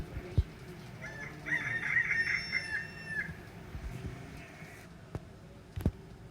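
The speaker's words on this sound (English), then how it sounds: "the rooster says," A rooster crows a single long cock-a-doodle-doo at moderate distance, over a steady farmyard background with a few clicks.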